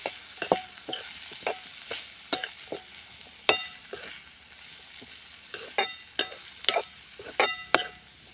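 Vegetables sautéing with turmeric in a pan, a spatula scraping and stirring in a string of sharp, irregular strokes over a soft, steady sizzle, close by with no talking.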